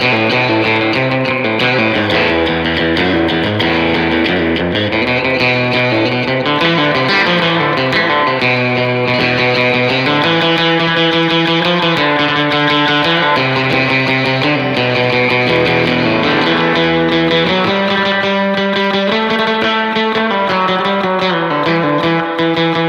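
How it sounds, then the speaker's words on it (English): An electric guitar plays surf guitar style, loud and continuous with a driving melodic line and chords, heard alone. "one of the first styles that made this popular was the ever famous surf guitar"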